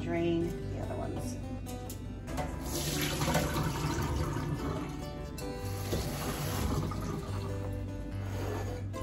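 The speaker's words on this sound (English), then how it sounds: "now all I'm going to do is rinse off my pickles so I can get some of that briny sauce off of all of them" Pickles are rinsed under a running kitchen tap to wash off brine, a loud continuous rush of water splashing into a sink, steady and close, with no talk.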